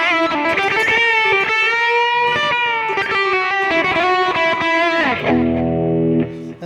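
An electric guitar plays through a BOSS eBand JS-10 on its Bluesy Lead preset into a Fender Pro Reverb amp, giving a loud, distorted, sustained lead line of bent and held notes that ends on a lower ringing chord.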